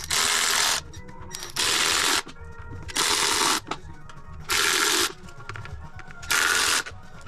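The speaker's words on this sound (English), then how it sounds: "step one is to remove the bolts" Bolts are taken out of the engine cover of a 2022 KTM 125SX dirt bike with a power tool, giving five loud, even whirring bursts of about a second each, close up, with short quiet gaps between them.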